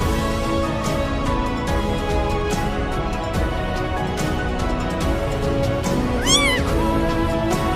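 A newborn stray kitten's thin, high mewing cries rise briefly over a steady background hum, faint and close.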